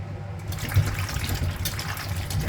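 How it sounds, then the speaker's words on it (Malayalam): Mushrooms are washed by hand in a bowl of water with salt and turmeric, giving a continuous low sloshing and swirling of water throughout, fairly loud and close, with no voices. "ഉപ്പും മഞ്ഞൾപ്പൊടി ഒഴിച്ച് നന്നായിട്ട് കഴുകിയെടുക്കണം"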